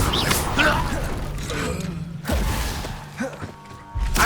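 Incendio fire spell cast during combat in Hogwarts Legacy: whooshing bursts and heavy thuds over busy game noise, with a dull impact partway through.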